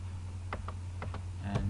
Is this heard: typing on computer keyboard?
yes